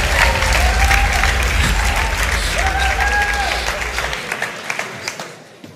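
An audience at the Dutch Podcast Awards 2023 ceremony claps loudly as a winner is announced, a dense steady roar of applause with cheering that slowly thins out and fades to a few scattered claps.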